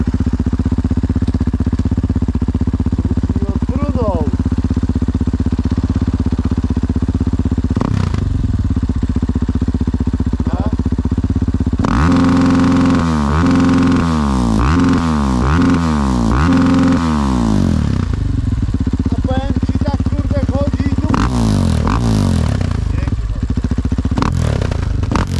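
A motorcycle fitted with an Akrapovic exhaust idles loudly and steadily up close, then revs in a burst of sharp throttle blips with popping and crackling from the exhaust before settling again.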